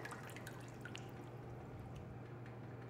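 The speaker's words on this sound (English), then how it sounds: "Now, just three sips of water." Water sipped in the video game Bendy and the Dark Revival, a soft steady run of drip-like liquid sounds over a constant low hum, with no talk.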